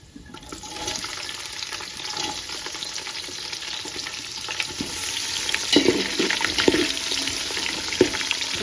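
Onions frying in a pan for chicken donne biryani, a steady broad sizzle building gradually, with light stirring scrapes and occasional clinks of a utensil toward the end.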